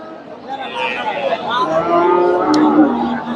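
A crossbred dairy cow at a cattle market lets out a long, drawn-out moo close by. Market chatter and voices murmur in the background.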